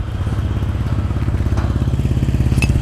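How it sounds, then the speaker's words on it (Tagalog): Honda Click scooter running after a start, with a steady, close putter from the exhaust and a faint clink partway through. "pakinggan muna natin yung tunog ng tambucho"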